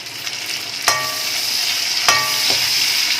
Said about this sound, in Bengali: এবার এটাকে একটু ভালো করে কিছুক্ষণ একটু নাড়াচাড়া করে নিচ্ছি